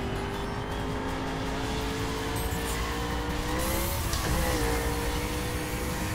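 A McLaren races in The Crew, its engine droning steadily up close with rising and falling revs, faint tire noise and a brief shift midway.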